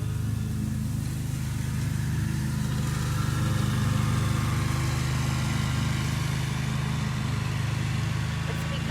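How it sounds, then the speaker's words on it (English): A steady engine drone runs throughout, a continuous low mechanical hum like a lawnmower working nearby, with a voice talking faintly over it. "Therapeutic, the sound of the lawnmower."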